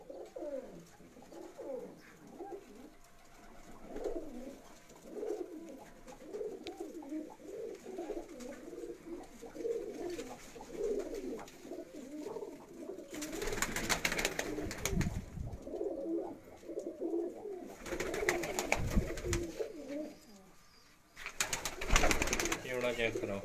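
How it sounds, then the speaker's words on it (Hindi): Ali-wala pigeons coo in soft, repeated throaty phrases at close range, with louder bursts of rustling or handling noise and background voices. "ये भी अली वाला कबूतर है।"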